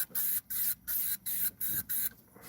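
Six short, loud hissing bursts from an aerosol can of Off mosquito repellent, sprayed in a quick rhythm with brief gaps between puffs.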